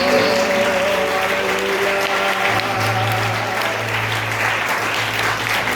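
A church congregation applauds God during a Sunday morning sermon, sustained loud clapping filling the room with a low tone humming underneath.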